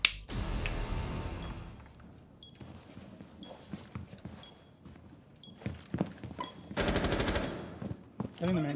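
Suppressed gunfire in Rainbow Six Siege, several bursts of rapid muffled shots, the first and a later one long and loud, separated by quieter scattered clicks, footsteps and game noise.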